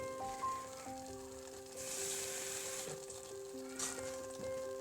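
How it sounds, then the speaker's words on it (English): Steady frying sizzle of chicken crackles in a pan, loud and close, with a few clinks of a utensil against metal. "I want this to sizzle now"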